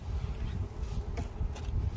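Honey bees buzz steadily and close by while colonies are combined into one hive, a dense continuous drone with no talk.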